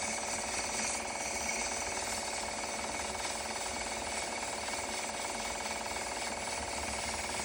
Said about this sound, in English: now we're going to sand that while it's still on the lathe